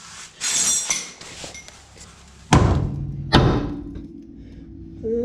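A hammer strikes the suspension of a 1966 Ford Galaxie 500 during a drum-to-disc brake conversion, with light metallic clinks and then two loud, sharp, ringing metal blows about a second apart, close and without talk.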